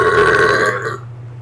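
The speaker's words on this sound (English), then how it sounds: "It's a little burp." A short, close burp from a person during a turkey Manhattans mukbang meal, a single low voiced belch lasting under a second that trails off into quiet.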